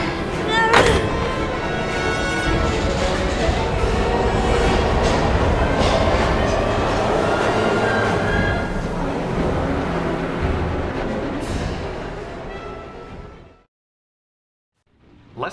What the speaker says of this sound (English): We've got to get on that train, Ethan.